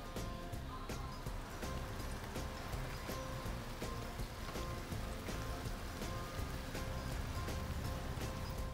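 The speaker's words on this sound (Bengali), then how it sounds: "তো বাহিরে বৃষ্টি হচ্ছিল" Light rain falls outside in a steady, soft drizzle, a continuous even patter from nearby with no clear voices.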